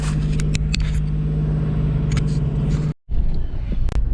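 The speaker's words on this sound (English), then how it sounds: "We are idling in drive right now with the AC on." A car with a 4th-gen throttle body that has just been cleaned idles in drive with the AC on, giving a steady low engine hum and rumble. The sound cuts out almost entirely for a moment near the end, then returns.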